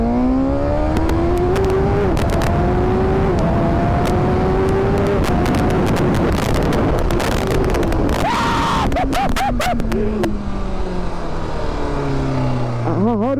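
A BMW S1000RR motorcycle accelerates hard through the gears, its loud engine note climbing, dropping at each shift and climbing again, heavy wind noise close by throughout.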